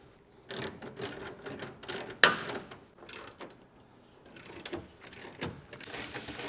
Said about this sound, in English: we can tighten down those bolts that are holding it to the bed rails